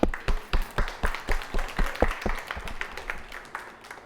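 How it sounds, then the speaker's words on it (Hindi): An audience at a school games competition claps in a steady, rhythmic beat, each clap crisp and evenly spaced, gradually softening over a few seconds. "आपके लिए बहुत बहुत ज़ोर से एक ताली बजाएं।"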